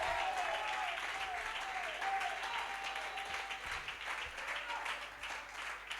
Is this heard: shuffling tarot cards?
no